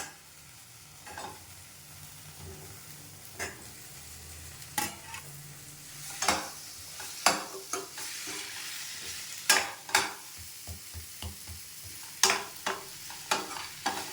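Guava pieces and tamarind sautéing in a hot pan for guava chutney, a continuous low sizzle broken by repeated sharp scraping stirs that grow more frequent toward the end, close and fairly loud.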